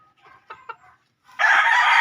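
Fighting-breed chickens bred from a two-time champion line: a few soft clucks close by, then a loud rooster crow bursting in and holding to the end.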